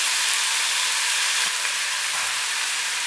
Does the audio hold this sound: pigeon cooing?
no